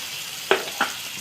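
Mustard seeds, chilli and garlic frying in hot oil, a steady close sizzle broken by two sharp popping crackles from the spluttering seeds.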